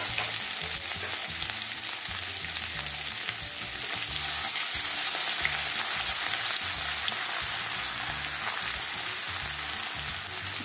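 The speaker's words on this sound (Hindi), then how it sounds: "दो मिनट अदरक को पका लेते हैं" Crushed ginger sizzles and fries steadily in hot oil in a pan while a fresh turmeric curry is cooked, with a continuous dense crackle and hiss at an even, close level throughout, occasional stirring audible, and no talking.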